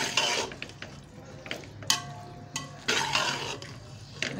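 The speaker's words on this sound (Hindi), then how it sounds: "चिली सॉस, सिरका, अब इसको अच्छे तरीके से मिक्स करूंगी।" Spicy street-style chicken chow mein being stirred and tossed in a pan with soy sauce, chili sauce and vinegar, bringing a quick run of metal utensil scrapes and clinks over a soft sizzle.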